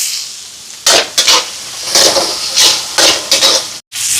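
Onions with green and dried red chillies sauté in a hot pan, hissing in short loud bursts as they are stirred, the sizzle rising and falling with each turn of the spoon.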